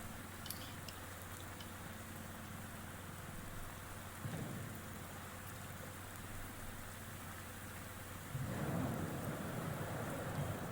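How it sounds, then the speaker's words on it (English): Heavy rain and thunder in Fallout 4 on Spectacle Island, with a steady, even hiss of downpour layered with low, distant rumbles. A heavier rumbling surge arrives near the end, and the overall level stays quiet. "Some heavy rain."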